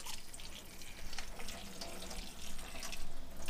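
Tap water runs into a sink as tomatoes are washed, a continuous close splashing hiss with small irregular splatters as the stream hits the fruit and basin.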